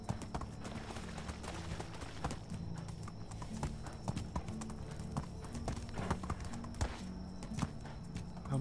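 Horse hooves clip-clopping in a rhythmic gait while riding in the medieval life-sim game Medieval Dynasty, steady and fairly close, with faint ambient game sounds and no speech.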